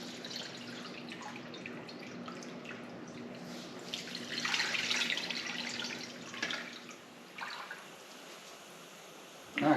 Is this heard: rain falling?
no